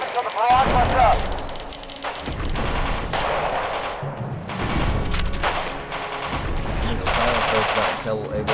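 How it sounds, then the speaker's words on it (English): Artillery barrage and machine-gun fire in a war game, with booming impacts and rattling bursts rolling on continuously and loudly, and battlefield voices calling out underneath. "Don't move until the barrage lets up."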